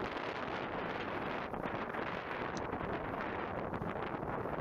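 Steady wind roars and buffets the microphone on a sailboat at sea in a force 4 breeze. The rush is loud and continuous throughout.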